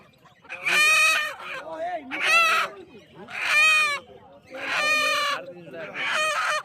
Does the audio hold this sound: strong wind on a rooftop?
no